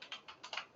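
Four quick taps on a computer keyboard, light and close, spaced unevenly as a short code string is typed, with quiet pauses between keystrokes and no voice.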